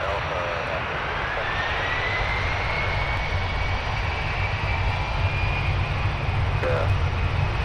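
Airliner jet engines roar continuously at MSP airport, a broad, steady rumble with a thin rising whine, loud and close throughout; a faint radio voice can be heard beneath.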